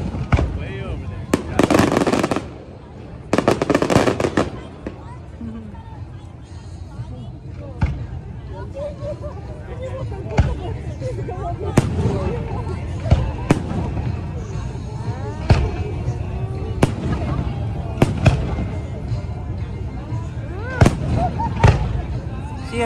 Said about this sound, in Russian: The fireworks are over the canal.